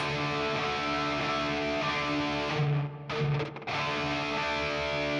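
Distorted electric guitar chords ring out open, unmuted and sustained, with a brief choppy break midway before the full chord resumes; no talking.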